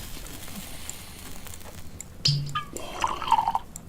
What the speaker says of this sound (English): To pour and drink the whiskey?